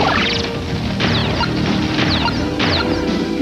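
A cartoon trash masher smashing down in a series of loud crashing, whacking impacts, roughly one per second, alone with no talk.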